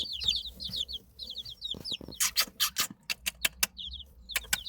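Baby chicks peep in quick, high bursts close by, with a few sharp knocks and clatters in the middle before the chirping carries on.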